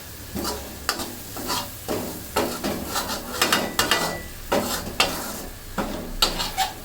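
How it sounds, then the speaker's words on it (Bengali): Masala being sautéed in a pan over medium heat for Bihari chicken, with repeated scraping stirs of a spatula against the pan at a steady rhythm over a soft, low sizzle. "আরও 2-3 মিনিট মশলাটাকে কষিয়ে নিচ্ছি।"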